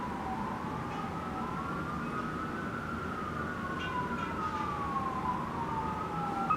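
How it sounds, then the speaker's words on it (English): Police car sirens wail outside, a steady rising and falling tone that holds across the whole stretch at moderate distance, with faint traffic rumble underneath and no talking. "oh my god, these freaking sirens"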